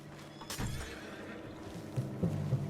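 Horse in Red Dead Redemption 2 letting out a whinny, with a few snorting, throaty bursts and hoof clops following, moderately close against a quiet background.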